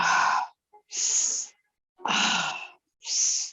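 Deep breaths during a yoga exercise: four slow, airy inhales and exhales separated by short silences, close and soft, with no talking.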